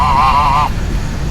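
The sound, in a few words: honking semi-wild domesticated geese at a spring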